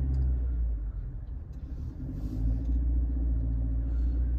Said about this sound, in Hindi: और अभी गाड़ी को करते हैं हम थोड़ा थोड़ा करके बैक।